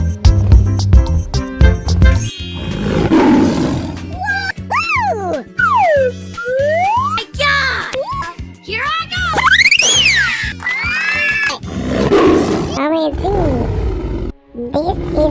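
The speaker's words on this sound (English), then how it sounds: "This is lion." A lion roars in a 3D animal slide video game, with loud, repeated game roars amid bouncy sound effects and an excited voice talking over them.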